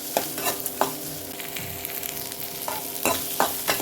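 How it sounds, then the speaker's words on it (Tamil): Sliced large onions sautéing in a pan, a steady broadband sizzle with a few sharp scrapes of a spoon against the pan, close and alone. "பெரிய வெங்காயம் எடுத்து கட் பண்ணி வச்சுருந்தேன், அதையும் போட்டு நல்லா வதக்கிக்கலாம்"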